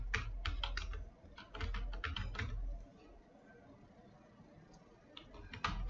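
Quick bursts of keystrokes on a computer keyboard as a search term is entered, close and fairly quiet, in two clusters separated by a short pause, with a few final taps at the end.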